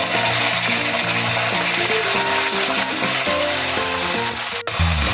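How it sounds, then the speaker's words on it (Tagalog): Tomato sauce poured into a pan of frying garlic, with a loud, steady close sizzle and hiss that runs throughout, a brief dip near the end. "ilagay na po natin ang ating tomato sauce"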